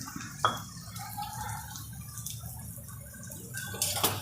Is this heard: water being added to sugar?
yes